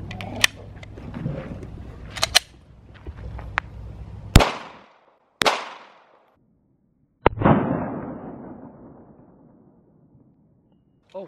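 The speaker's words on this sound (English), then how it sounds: "I'm gonna shoot it with the Glock 19" A Glock 19 pistol fires 115 grain 9mm full metal jacket rounds into tires outdoors, several loud sharp cracks spaced seconds apart, each followed by a ringing decay, with quieter clicks and handling noise early on.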